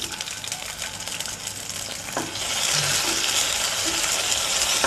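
Tomatoes cooking in hot oil with black cumin in a kadai, stirred for a couple of minutes, producing a loud continuous sizzle that grows denser midway, with occasional scraping of the utensil.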